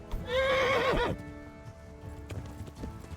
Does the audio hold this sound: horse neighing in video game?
yes